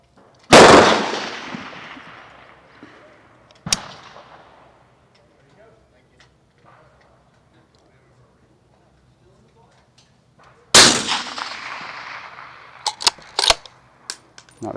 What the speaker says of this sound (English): we'll shoot and see how it does